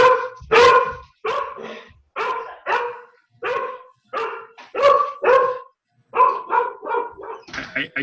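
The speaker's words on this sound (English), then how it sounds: "my dog's barking" A pet dog named Riley barks repeatedly outdoors, a steady series of loud, fairly close woofs in short bursts with brief gaps, heard alone without talk.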